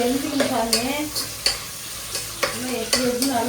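Curry leaves, coriander, green chillies and onion tempering in hot oil for mutton curry, a bright continuous sizzle broken by repeated sharp stirring scrapes, close and loud with no talk.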